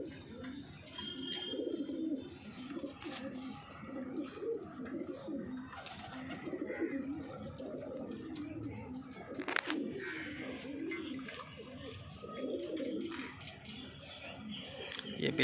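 Red dumchir pigeons coo repeatedly in low, throaty rolling calls, layered and close, with faint background rustling and scattered clicks.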